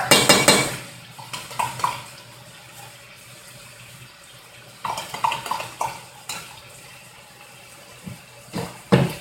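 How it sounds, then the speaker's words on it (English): A spoon scrapes and clanks around a metal pot as tomato paste is worked into cooked meat, with bursts of clattering strokes at the start, middle and end separated by quieter stretches. "I'm just going to stir this around until the tomato paste kind of gets incorporated with the meat"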